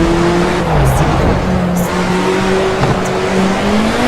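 A race car in Project Cars laps a track with a turbo, its engine holding a steady tonal drone that shifts pitch as it accelerates and changes gear, loud and close with no talking.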